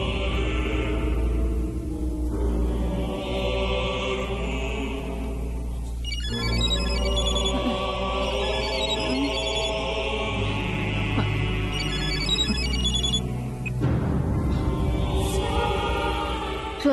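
A telephone rings in repeated bursts with short pauses between them over a dramatic television serial music score, fairly loud and with no talking.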